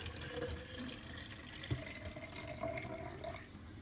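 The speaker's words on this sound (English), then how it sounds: "Let's take this container and pour it back in the original container just like it was at the beginning." Water poured from one container back into its original container during a conservation demonstration, a soft continuous trickle and splash with a brief clink partway through, fairly quiet.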